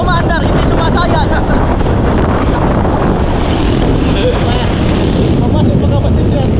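A small boat's motor runs continuously, loud and close, with heavy wind buffeting the microphone and water splashing around the hull. People talk intermittently over the engine noise.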